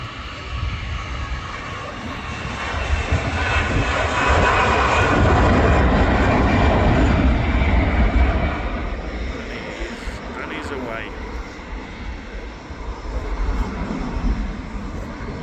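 Jet2 jet airliner on its take-off roll at Manchester Airport, engine roar building to a loud peak midway, then easing as it moves off, with a second swell near the end.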